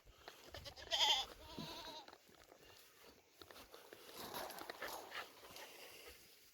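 A goat buck bleats once, fairly close, followed by quieter farmyard rustling and a second faint bleat.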